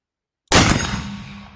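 A single loud, close gunshot from a .54 caliber Hawken black powder rifle booms suddenly after a moment of silence, then rolls away in a long fading rumble.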